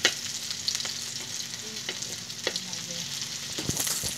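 Garlic and onion frying in a pan for a misua noodle sauté, steady sizzle broken by occasional spatula scrapes and taps, close up with no one speaking.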